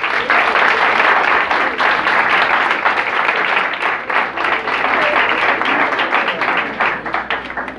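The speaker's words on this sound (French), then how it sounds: "On l'applaudit, s'il vous plaît." An audience at a school competition event applauds loudly for nearly eight seconds, a dense, sustained clatter of many hands that thins slightly toward the end, with no one speaking.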